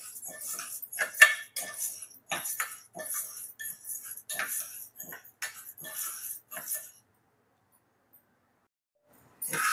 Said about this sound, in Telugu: కందిపప్పు వేసి వేయించుకుందాం